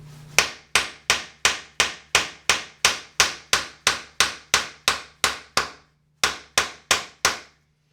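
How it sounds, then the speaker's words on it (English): A hammer whacks the cutting edges of HAP-40 and CPM M4 steel knives in a toughness test, about twenty sharp, evenly spaced loud strikes, with a brief pause before the final few blows. "there's 20 good whacks on each cutting edge"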